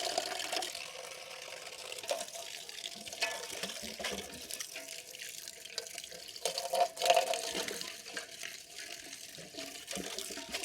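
Medicinal herb roots and leaves are rinsed in water to wash off soil, giving soft, faint splashing, trickling and dripping with occasional louder sloshes and no voices.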